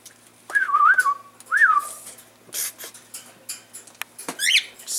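A noisy pet bird whistles indoors: rising, warbling whistled phrases come in short bursts, mixed with sharp squeaks, clicks and a quick chirping trill near the end, fairly close and fairly loud, with quiet pauses in between.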